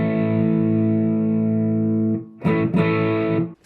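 An electric guitar runs through an MXR Fat Sugar overdrive pedal with the tone knob turned dark. A sustained, warm, muffled overdriven chord rings out, then two quick chords are struck after a short pause.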